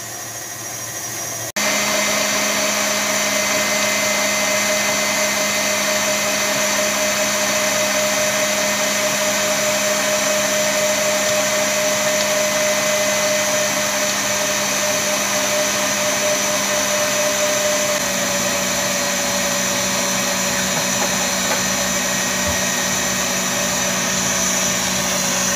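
An electric mixer whips egg whites and sugar into meringue, a loud, continuous motor whine starting abruptly and holding steady close by throughout, with no talk.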